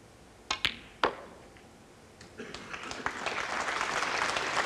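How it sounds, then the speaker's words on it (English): At a snooker match, a couple of sharp ball clicks ring out on the winning shot, then applause begins with scattered claps and grows into steady clapping from a crowd. "The applause recognises that that was the winning shot"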